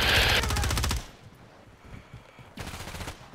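Rapid automatic gunfire rattles loudly in Call of Duty Warzone 2 gameplay on Vondel, a dense burst that stops abruptly, then a second stretch of fire resumes after a brief quieter gap.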